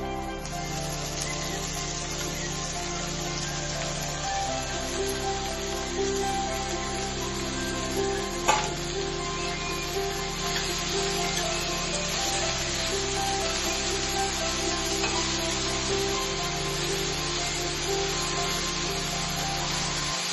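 Onions and chukkakura greens frying in AMC cookware, a steady broadband sizzle with faint low hum, running unbroken at even loudness throughout, with no talking.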